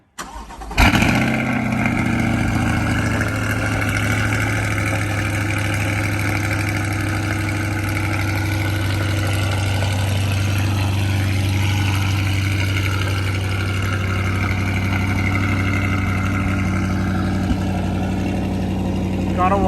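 A Chevrolet C8 Corvette fitted with a new air filter cranks and fires up close by, then settles into a steady, loud, even idle that holds for the rest of the moment with a faint voice in the background.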